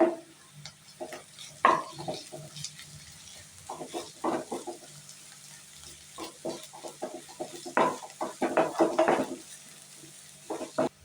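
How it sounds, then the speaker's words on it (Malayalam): Ginger garlic paste stirred into fried onions in a pan for okra masala, with scraping stir strokes and short bursts of sizzle in an irregular rhythm, close and moderately loud. "1 ടേബിൾ സ്പൂൺ ഇഞ്ചി വെളുത്തുള്ളി പേസ്റ്റ് ഇട്ട് കൊടുക്കാം"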